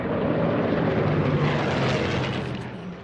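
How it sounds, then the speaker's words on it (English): Airplanes flying overhead in the video game Martha is Dead, a steady loud engine drone with a low hum that holds for about three seconds before easing slightly. "I love the sound of planes flying."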